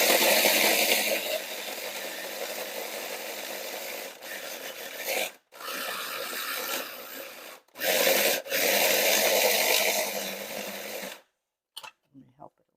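Garlic is ground into a paste for a lentil dish, a loud rough grinding and rasping that runs in long bursts with brief breaks before stopping abruptly, followed by a few faint knocks.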